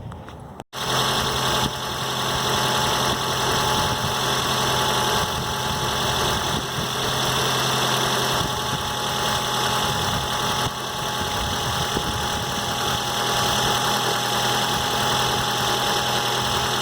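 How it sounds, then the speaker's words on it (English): A car engine idling during a DIY oil change, run for a few minutes after the new oil filter is filled; a steady, continuous mid-pitched hum that holds unchanged after a brief dropout at the very start. "So run the car for a few minutes."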